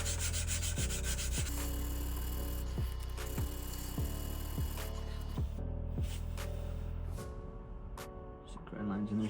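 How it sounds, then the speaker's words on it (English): Sanding the steel blade of a Santoku kitchen knife, a steady close rubbing with repeated stroke-like pulses, continuous and loud throughout, with no talking over it. "Don't forget to sand that spot."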